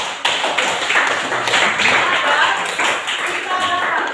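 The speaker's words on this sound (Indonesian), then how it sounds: "tepuk tangan untuk Ayah" An audience in a classroom teaching session applauds, with steady clapping and tapping that fills the whole moment at close range. A voice speaks faintly underneath.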